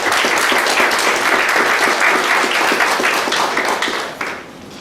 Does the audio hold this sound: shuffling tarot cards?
no